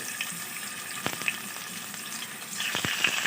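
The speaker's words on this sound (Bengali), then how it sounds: "দিয়ে আমি মাংসগুলোকে একটু ভেজে নেব" Chicken pieces fry in hot ghee, making a close, steady sizzle punctuated by several sharp stirring clicks and scrapes. The sizzle grows louder toward the end, with no talking.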